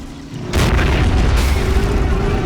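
Sudden heavy artillery blast in a tank video game, a single loud boom after a brief quieter lead-in, followed by a rumbling tail that lingers to the end.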